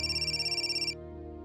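A telephone rings with a bright electronic ringtone, a rapid pulsing warble that repeats for about a second and then cuts off, leaving a low steady hum.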